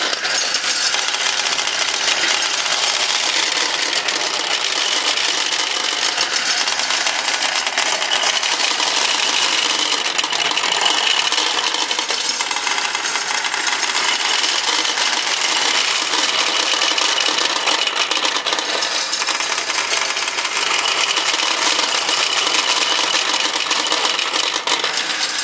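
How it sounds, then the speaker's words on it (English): A vintage pachinko machine's ball lifter autoloader runs steadily, a loud, dense metallic clatter and rattle of balls that holds constant throughout without pause. "pachinko machines are loud"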